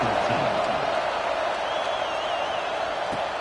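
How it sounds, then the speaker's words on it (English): Football stadium crowd buzzing after a score, a broad steady murmur of many voices with scattered shouts, heard at a distance and fairly even throughout. "this crowd is buzzing after that last score"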